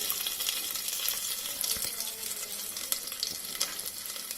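Steady hissing sizzle of chopped garlic frying in hot oil in a pan, with occasional sharp crackles and pops, close and continuous.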